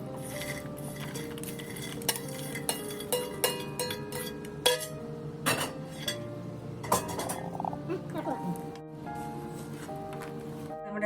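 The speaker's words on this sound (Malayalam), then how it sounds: "നമുക്കിനിയും ബീഫ് എല്ലാം ഇതിലേക്ക് ഇട്ട് കൊടുക്കാം" Beef tipped into a pan of spiced masala for Kerala-style beef pickle and stirred, with repeated metallic clinks and scrapes of a utensil against the pan over a steady background.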